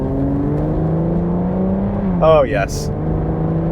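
A sports car engine with carbon ceramic brakes drones steadily throughout, rising into a brief louder rev near the end as someone speaks over it.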